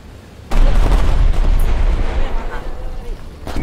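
Loud, dense booming blasts of bombs exploding in the War Thunder combat game, a heavy rumbling burst that holds on for seconds, with another hit near the end.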